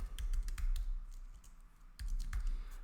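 Someone types on a computer keyboard in short, close clusters of crisp keystrokes, with a brief pause between two bursts and no talking.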